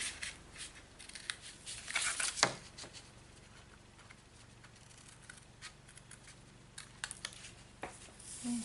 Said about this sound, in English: I'm just going to cut that off.